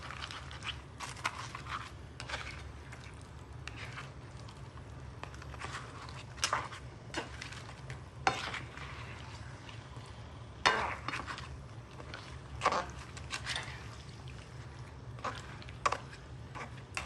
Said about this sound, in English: Give it a good stir because you want it to be fully